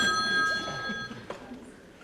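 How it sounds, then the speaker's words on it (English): A telephone rings indoors with a bright, steady electronic tone, then fades into faint room noise after about a second. "I have to answer the phone."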